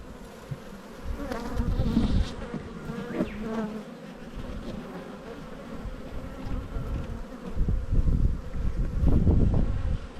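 Honey bees buzz in a dense, continuous swarm around an open hive during a spring frame inspection, with occasional louder passes near the microphone and some light rustling.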